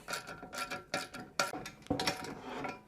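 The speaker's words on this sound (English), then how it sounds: "So I'm going to use my socket to get this on quicker." A socket ratchet spins a nylon locking nut onto a Trend CDJ300 dovetail router jig, giving close, quick bursts of ratcheting clicks in a steady stop-start rhythm, with no speech.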